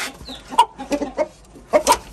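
An Aseel rooster clucking nearby among hens in a few short, throaty bursts, with quiet gaps between the calls.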